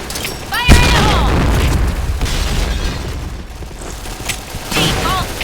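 Grenade explosions in a multiplayer shooter game, loud booming blasts with crackling debris and scattered gunfire, overlaid by shouted voice chat.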